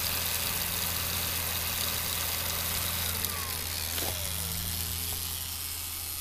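A BBSHD mid-drive e-bike motor runs at full drive, giving a steady, loud low hum with a continuous whine layered on top and one brief clunk partway through.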